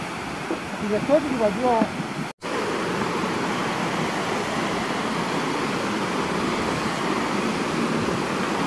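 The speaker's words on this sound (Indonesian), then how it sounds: "Ini air terjun di Sinoa." The waterfall at Sinoa in Bantaeng roars as a steady, broadband rush of falling water, loud and close, with brief voices over it at the start before a short cut.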